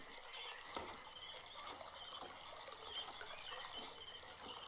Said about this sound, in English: I can hear the water flowing.